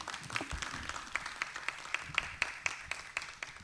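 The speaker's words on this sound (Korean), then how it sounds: "황유영 교수님께 다시 한번 큰 박수 부탁드리겠습니다" An audience at an urban regeneration forum gives a professor a round of applause, heard as a faint, scattered patter of individual claps with distinct sharp hits, fairly distant and thin.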